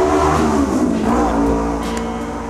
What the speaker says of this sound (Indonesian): Tuh ada sepeda motor ninja lewat teman-teman, sangat ribut sekali